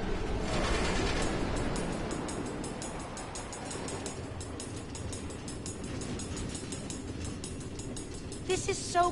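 Minecraft Story Mode minecart train on automated tracks through the Nether, a rumbling rolling rail sound with rhythmic clacking, moderately loud and fading slightly, ending with a few sharp clanks.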